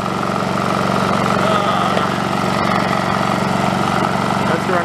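A Honda EU2200i portable inverter generator runs steadily at close range, its engine drone holding an even, unbroken hum with a constant mechanical vibration throughout.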